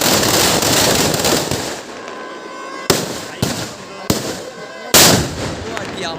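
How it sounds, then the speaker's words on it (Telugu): A large banyan-tree ship bomb firecracker goes off at a village Durgamma festival, first a sustained crackling roar, then several sharp, loud bangs spaced about a second apart, with voices in the background. "ఇక్కడ పెట్టింది అయితే మర్రి చెట్టు ఓడ బాంబు అండి"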